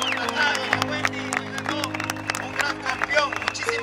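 A crowd applauds a Guatemalan cycling champion at a title celebration, with dense clapping throughout and someone talking loudly over it.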